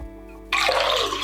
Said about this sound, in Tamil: இதுல 3/4 கப் அளவுக்கு தண்ணி ஊத்திக்கலாம்